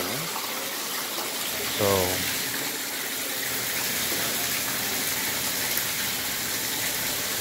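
A waterfall pours into a koi pond with water lilies, making a loud, steady rushing wash throughout. A person briefly speaks early on.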